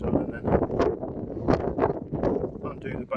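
Gusty wind buffets the microphone on a Lake District fell top at Glenridding Dodd, rumbling in irregular surges with a brief clatter of tent gear.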